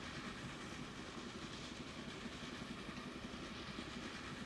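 A Union Pacific passenger train in the video game Transport Fever rumbles steadily with a continuous rolling clatter, moderately loud and alone for a few seconds.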